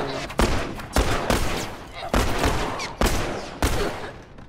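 Gunfire in The Last of Us, a series of five loud, sharp shots spaced roughly a second apart, each a sudden blast with a decaying reverberant tail, close and dominant with a voice faintly in the background.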